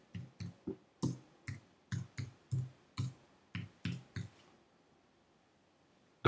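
A discount code is typed on a computer keyboard: about fifteen distinct, evenly spaced key clicks, close and fairly quiet, then a pause and one final sharp click.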